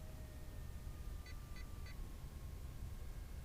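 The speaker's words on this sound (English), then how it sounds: "I'm getting this beep from the transmitter." An RC plane transmitter for a small sub-250g brushless SU27 fighter jet gives three short, evenly spaced beeps, faint under steady outdoor wind and background noise.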